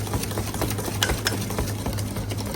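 An electric mixer beats butter, egg and sugar for homemade milk biscuits, giving a continuous close motor hum with a faint rhythmic churning and no speech.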